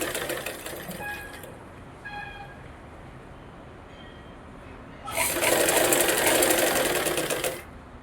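Sewing machine stitching a blouse lining at a half-inch seam, a loud steady whirring burst running for a few seconds near the end after quieter handling sounds.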